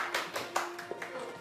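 A small studio audience claps for guests being welcomed on a television show, making a short burst of distinct, separate handclaps with a faint voice underneath.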